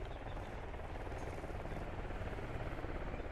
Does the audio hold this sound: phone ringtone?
no